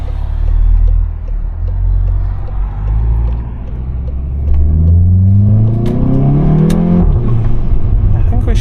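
A tuned VW Golf 7.5 GTI on the road, its engine droning low from inside the cabin, then climbing in a rising rev sweep as it accelerates hard before easing off; a voice talks over the engine noise.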